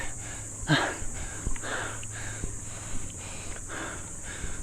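Rhythmic heavy breathing from a cyclist after a steep bike climb toward Mount Poro, repeated gasping breaths about once per second, close, over steady outdoor hiss.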